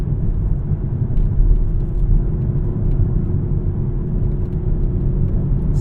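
A Mk5 Toyota Supra's B58 engine runs in manual mode around 4,000 RPM, a loud, steady low rumble that holds without pause and with no voices.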